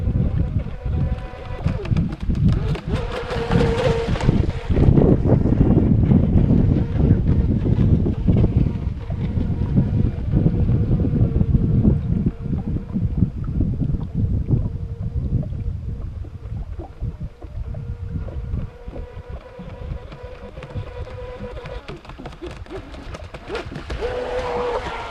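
A Proboat Shockwave 26 RC boat on a 2S battery runs across choppy lake water, a buzzing motor drone mixed with splashing hull slaps and gusting wind noise, loud and close, rising and fading as the boat passes.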